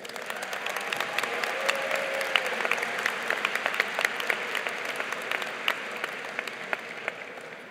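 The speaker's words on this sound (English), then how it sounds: "Please give them a round of applause" Graduation ceremony audience at a high school applauding in a large hall, a continuous bed of clapping with distinct individual claps popping out, moderately loud and sustained.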